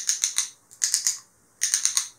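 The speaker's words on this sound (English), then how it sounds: "I like the clicking sound." A handheld high-pressure shower head's pressure control is turned, giving three close, crisp runs of about four quick plastic clicks each, separated by short silences.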